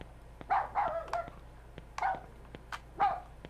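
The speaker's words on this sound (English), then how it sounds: "The dog's barking though." A dog barks in the Rule of Rose video game: four separate bark bursts at moderate level, spaced irregularly over a soft background with faint clicks, no talking.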